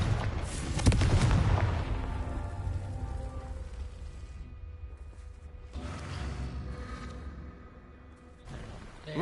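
The Confringo blasting spell in Hogwarts Legacy goes off with a booming, rumbling burst at the start, then the rumble decays into a long fading tail, with a second softer whooshing flare later on.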